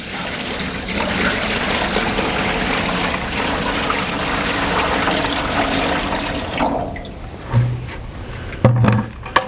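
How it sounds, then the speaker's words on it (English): Maple sap pours from a container into a metal sugaring pan set on a Weber grill, a steady splashing trickle up close that runs for several seconds before tapering into a few drips and clunks. "we pour it into our sugaring pan,"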